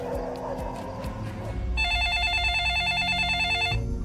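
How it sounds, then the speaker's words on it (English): An electronic telephone ring trills steadily for a couple of seconds, following a low hum of background noise and murmuring. "And the phone rang"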